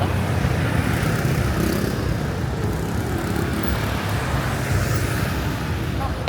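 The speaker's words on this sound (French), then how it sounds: "on va se prendre le scooter, là. Petit tour de la ville." Steady broadband road rumble and wind roar while riding a scooter through town traffic in Bali, loud and continuous throughout with engine drone and no distinct pauses.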